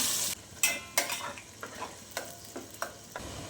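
Halved garlic cloves, 200 grams, hit hot oil for a tuna fish pickle, giving a steady sizzle broken by several sharp stirring scrapes and clinks of a spoon in the pan.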